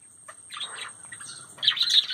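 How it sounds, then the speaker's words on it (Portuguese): Parakeets chirp in the early morning near an aviary, a few bright scattered calls rising into a denser burst of twittering toward the end, moderately close. "E olha, olha os periquitos de manhã cedo ali."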